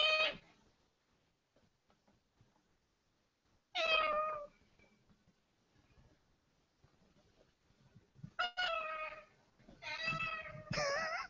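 A parrot imitates a domestic cat with a lone close meow, a long quiet gap, then a quick run of three or four meows toward the end.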